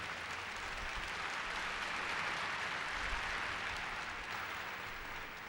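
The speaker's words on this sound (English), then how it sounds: "y'all didn't clap loud enough on that" An audience at a round table conversation applauds steadily, dense continuous clapping at even loudness for several seconds before easing slightly at the end.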